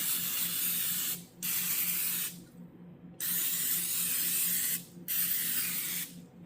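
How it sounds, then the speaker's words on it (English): A spray bottle hisses in four long, steady bursts with short gaps between them, close and fairly loud over a low steady hum, spraying chicken wings. "And then I'm going to spray these again on this side."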